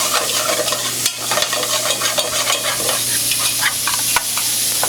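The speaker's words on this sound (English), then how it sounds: "I'm gonna fry some bacon up" Bacon frying in oil in a pan for a Southern chowder, a loud close sizzle with spatter and occasional scraping knocks as it is stirred.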